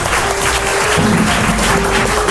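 Studio audience at a children's TV quiz show breaking into loud, sustained applause, dense clapping filling the room throughout.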